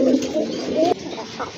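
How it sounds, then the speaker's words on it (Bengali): Male pigeon cooing close by in a loft, a low rolling coo repeated with short breaks, with faint background noise after. "এই যে দেখেন খুব ভালো ডাকে কিন্তু, দেখার মতো একটা নর কবুতর"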